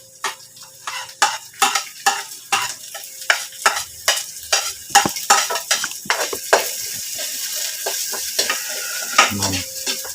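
Chopped onion sautéing in a pan for lumpiang gulay with pork giniling, a vegetable spring roll filling: sizzling frying under repeated rhythmic scrapes and clinks of a utensil stirring against the metal pan, close and fairly loud.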